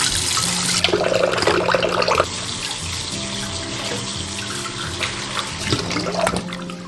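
Tap water runs steadily while silver pomfret fish are washed under it, a close splashing stream with a low hum and shifts as the flow hits the fish and sink.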